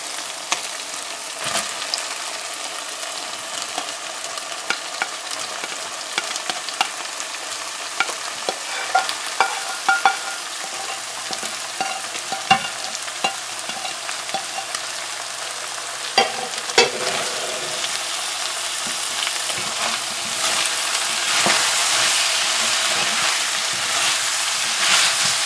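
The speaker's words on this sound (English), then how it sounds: "We're just going to add the seasonings here now, and it's going to be fried up with the oil that's already in there." Seasonings frying in oil in a pot with squash and chicken give off a steady sizzle and hiss, with occasional stirring scrapes and a brighter, louder fry building toward the end.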